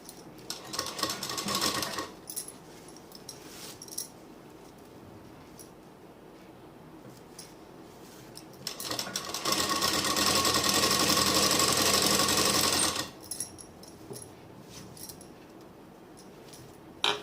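A sewing machine stitches the lining of a suit in two bursts, a short whirring run at the start and a longer, louder steady run midway, with quiet handling noise in between.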